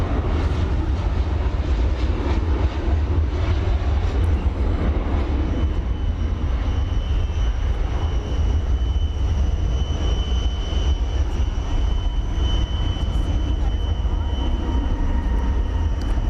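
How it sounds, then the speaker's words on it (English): A Spirit Airlines Airbus A321neo arriving from Los Angeles at DFW Airport gives a continuous jet engine roar, steady and moderately loud throughout, heard at a distance with no talking over it. "We're going to train our camera on a Spirit aeroplane."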